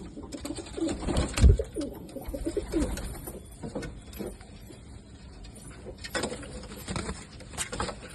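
Gola pigeons coo repeatedly at close range, low rolling calls among light scuffling and wing flutters, with no speech.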